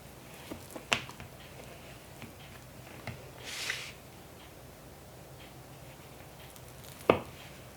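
A knife cutting into a gluten-free almond cranberry sour cream cake soaked in honey butter, with two sharp taps of the blade striking the plate, a soft slicing rustle between them, and quiet in between.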